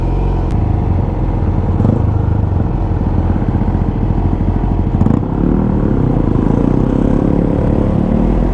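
A motorcycle engine roars and revs loudly nearby in a continuous, rough drone with slight surges. No speech rises above the engine noise.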